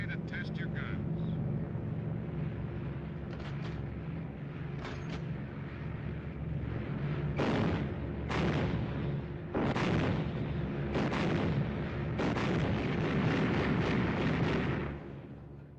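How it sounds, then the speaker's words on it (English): Machine guns test-fired from a bomber in flight, set over the steady roar of the aircraft's engines, with several loud rapid bursts in the middle of the stretch. "Savage to gunners. Okay to test your guns."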